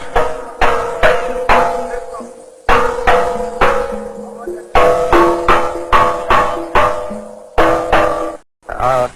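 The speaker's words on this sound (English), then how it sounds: "He lowers the tone when he hammers on it from the top." Loud metallic hammer strikes ring out in a rapid, uneven series on a steel drum being tuned, each blow leaving a bright pitched ring, close by with short pauses between bursts.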